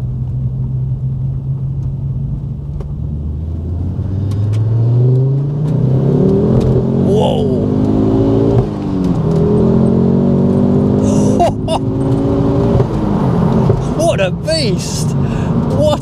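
A Mk2 Ford Focus RS with a Mountune MR375 upgrade accelerates hard on a country road, its engine note climbing steadily through the revs, rumbling loudly from inside the cabin.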